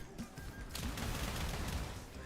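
Rapid gunfire and blasts in the shooter game SULFUR, a quick burst of close, sharp shots and explosive pops piling into a dense rattling barrage over a couple of seconds.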